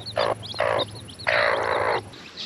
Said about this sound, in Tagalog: Ang daming manok dito, oh.